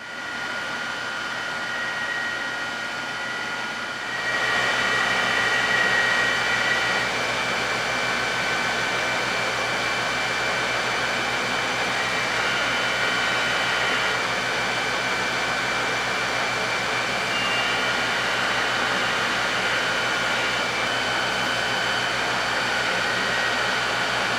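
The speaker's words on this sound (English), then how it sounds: "I'll just move on here and grind the interior radius of the blade." Belt grinder shaping the interior radius of a hand-forged hori-hori knife blade, a steady loud broadband whir running throughout, stepping up in intensity after the first few seconds as the steel meets the belt, with no talking.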